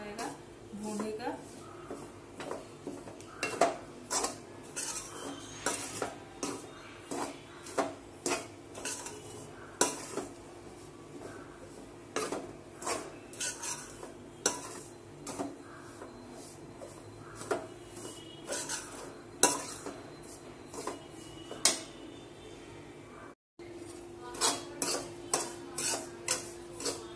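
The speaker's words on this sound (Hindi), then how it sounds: "चावल के आटे को हमको अच्छे से एकदम ब्राउन कलर का इसको भूनना है" Rice flour being dry-roasted to a brown colour in a pan, with a steady run of scraping and clinking stir strokes against the metal, spread across the whole stretch beneath a soft background hum.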